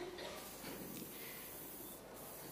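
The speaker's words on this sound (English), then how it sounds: "I'm going to spray." Hair spray hisses from a pump bottle in a salon styling session, a close, steady spray lasting a couple of seconds at low level.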